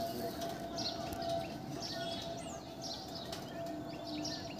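Madras pigeons inside a loft give soft, low coos with scattered chirps and the odd flutter of wings, all faint against a quiet room hum.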